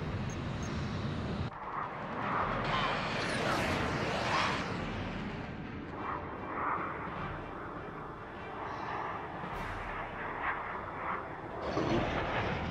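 Aircraft roar past in the Ace Combat Infinity video game, with jet engine noise rising and falling in several sweeping passes over a rumbling background.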